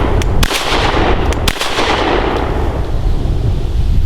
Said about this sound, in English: let's see what the Browning A-5 for the Americans can do.